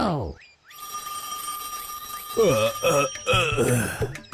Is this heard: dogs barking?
no